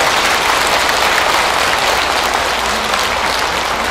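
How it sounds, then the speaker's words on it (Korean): Steady applause from a large audience at a Buddhist temple's 108th anniversary dharma ceremony in a Busan hotel ballroom, dense and continuous throughout with no voices over it. "다시 한번 박수 부탁드립니다."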